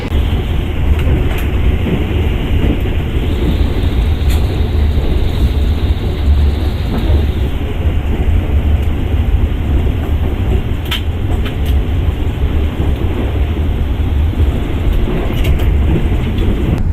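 The Taksaka executive train runs at speed, heard from the vestibule of executive car 8 as a loud, steady, unbroken rumble with faint rattles over it.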